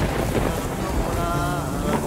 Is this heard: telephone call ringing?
no